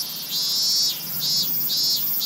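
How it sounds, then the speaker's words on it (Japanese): A minmin cicada (Hyalessa maculaticollis) sings outdoors in high mountain country: a loud, shrill buzz that swells and fades in regular pulses, steady and continuous with no voices. "あ、ミンミンゼミの声も聞こえてきた。"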